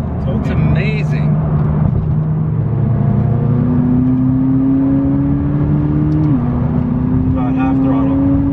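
A straight-piped McLaren 570S tuned to about 650 horsepower drones steadily under partial throttle, its engine note rising slowly and then stepping as the car pulls, with people talking inside the cabin.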